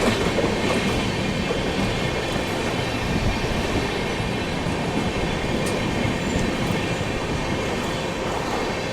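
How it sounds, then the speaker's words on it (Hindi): The Mumbai Indore Duronto Express runs on rails around Mumbai while slowing down, a loud, dense, continuous rumble of wheels and carriages heard from on board, steady throughout with faint clatter. "अपनी ट्रेन भी स्लो डाउन हो गई है"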